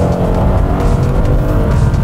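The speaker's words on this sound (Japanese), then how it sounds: "ここでセカンドにビュンと落として" A Toyota Mark X 250RDS with a six-speed automatic and paddle shifters drops from third into second, its engine revving in a loud, sustained roar that holds steady throughout, with no talking.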